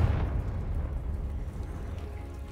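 A Confringo fire spell blast from the Hogwarts Legacy video game, a heavy low rumbling explosion that hits at the start and rolls on as a dense sustained roar, gradually easing.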